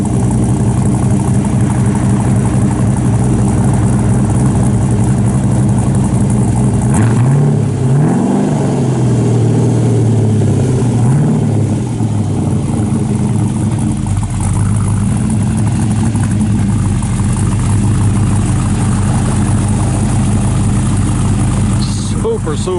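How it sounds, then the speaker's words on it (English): A 1966 Chevrolet Chevelle SS resto-mod with stainless Flowmaster exhaust idles with a deep, loud rumble, giving a couple of brief blips of revving midway before settling back, while someone talks over it. "It's got stainless Flowmasters on it."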